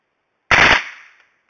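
A single muffled burst from an MP5 submachine gun fitted with a silencer, a short dense crack that trails off into a fading echo, otherwise silent.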